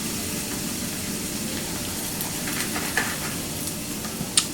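Sweet potatoes frying in a skillet for a ground ostrich breakfast hash give a steady, even sizzle close up, with a few small pops and clicks near the end and no talking.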